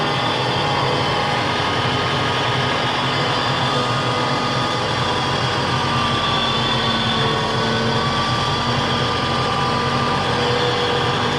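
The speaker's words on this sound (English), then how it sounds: "Got the tractor Austin Powers over here." A tractor engine drones steadily and loudly on a rough dirt road at an off-grid abandoned airport, with continuous mechanical rumble and rattling throughout and no talking.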